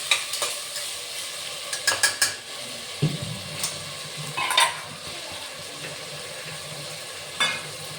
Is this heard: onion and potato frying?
yes